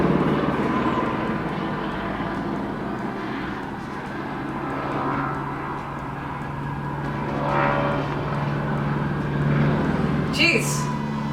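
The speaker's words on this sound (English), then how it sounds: "Sorry guys, helicopters." Helicopters fly overhead outside a city window and give off a steady, droning engine rumble, with a person talking throughout.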